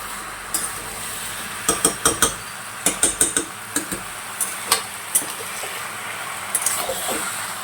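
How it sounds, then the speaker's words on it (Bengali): A spoon stirs fish-head and Malabar spinach curry with potatoes in a pan, giving irregular scraping clacks and taps over a soft background sizzle. "ঢাকনাটা খুলে ফের আমি একটু নাড়িয়ে নিচ্ছি।"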